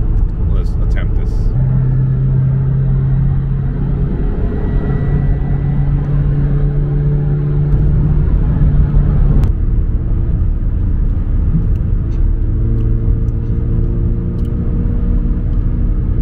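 A 2022-or-later Subaru BRZ / Toyota GR86 driven hard on a closed course, heard from inside the cabin as a loud, continuous engine drone and road rumble with steady whining tones throughout.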